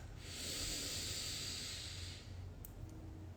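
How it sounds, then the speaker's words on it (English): A slow, deep breath drawn in with a long, steady airy hiss during a guided meditation, close and fairly loud, then easing off. "Let's take a deep breath."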